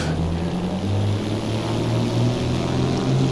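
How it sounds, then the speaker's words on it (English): In the X-Plane 12 game, a Beechcraft Bonanza's propeller engine throttles up for takeoff, a loud steady drone with rising low harmonics held throughout. "throttle coming up, power coming up"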